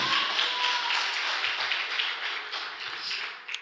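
A church congregation applauds together in a dense, continuous wash of clapping. The sound stays broad and fairly even for a few seconds, then fades slightly toward the end.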